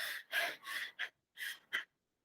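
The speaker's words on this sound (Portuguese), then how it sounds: "É uma respiração curta, uma respiração que fica aqui." Short, rapid, shallow breathing demonstrated by a person, heard as five or six quick, soft, close breaths in an uneven rhythm, each separated by brief pauses and followed by silence.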